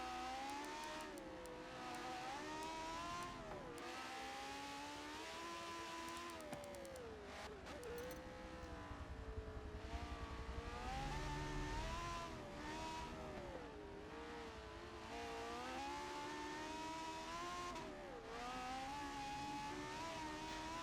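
Ferrari race car engine from a 1960s racing video game on the Nürburgring Nordschleife, a steady loud onboard whine that rises and falls through gear changes, continuous with no talk.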